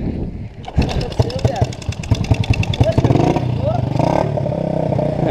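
A four-stroke moped engine revs in sharp, rhythmic bursts close by, rising into a sustained loud rasp, with mechanical clatter and brief voices mixed in.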